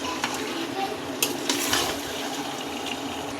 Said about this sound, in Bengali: এই যে দেখুন নেড়ে দিয়েছি